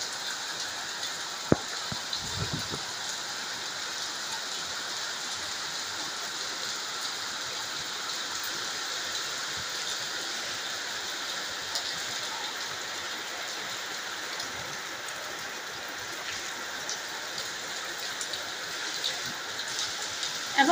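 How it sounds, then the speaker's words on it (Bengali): Heavy afternoon rain makes a continuous broadband rush that resembles streaming water, steady in level for the whole stretch. A brief thump comes near the start, and there is no talking. "কি করে বৃষ্টি হচ্ছে"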